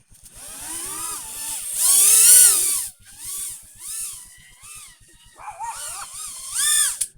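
A small dog chases a buzzing drone, its high whining motor rising and falling loudly in bursts, swelling near the middle and again at the end, with short gaps between passes.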